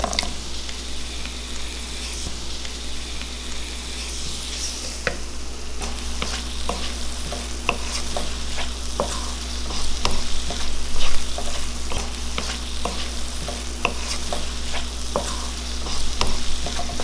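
Tomatoes sautéing in a pan for potato masala, a steady close sizzle with repeated stirring scrapes and taps of a spoon, no voices.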